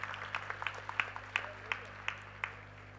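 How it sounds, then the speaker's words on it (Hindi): Faint, sparse applause from a small group, individual claps standing out irregularly over a steady electrical hum. "A huge round of applause,"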